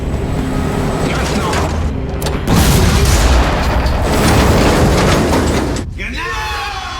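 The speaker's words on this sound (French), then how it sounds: "on a fait péter un mur" An explosion blowing up a wall in Better Call Saul, a loud deep boom with rumbling debris that swells and lingers for a few seconds before fading, with voices talking over it.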